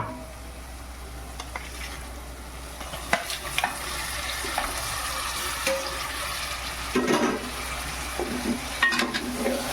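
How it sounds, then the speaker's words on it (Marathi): Goat mutton hits hot masala and oil in a pan on a low gas flame, producing a soft, steady sizzle with occasional stirring scrapes and clatters, fairly quiet and close. "आता हे मसाला आपला झालेला आहे त्याच्यात मी हा मटण टाकते"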